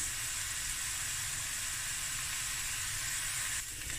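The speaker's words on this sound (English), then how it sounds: "Let this fry for a few minutes." A steady, even sizzle of curry base frying in a hot pan for a prawn and coconut cream curry, a constant hiss with no voices.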